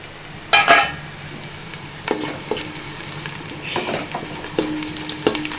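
Chicken biryani masala (Dhonne style, Karnataka) stirred and fried in a pan: a loud scraping burst early, then steady sizzling broken by several spoon scrapes and clinks, with no talk.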